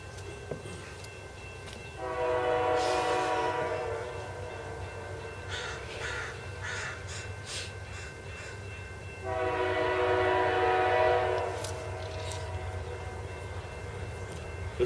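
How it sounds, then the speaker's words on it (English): A passing freight train sounds two long, loud horn blasts separated by a pause, over a steady rumble of rolling cars, with no talk. "This freight train coming now is going to make a lot of noise."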